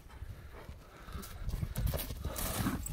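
A horse being spurred forward in a village gives off quick, rhythmic clip-clop hoofbeats, moderately faint and somewhat distant, picking up pace toward the end.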